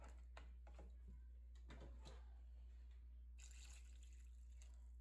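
Water poured into a cooking pot while preparing ranch-style cornudas with pork ribs, a soft trickling and splashing with a few bright drips, quiet and close against a steady low hum, no talking.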